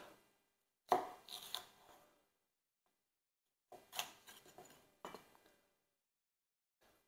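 Sweet peppers are cut into big chunks for sweet and sour meatballs, with three short bursts of a knife chopping on a board and quiet pauses between them.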